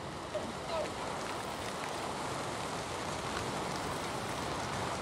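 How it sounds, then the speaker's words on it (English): Steady rain falls in the Valheim video game as a continuous, even hiss that fills the whole stretch without pause. "Because it starts raining. Of course it does."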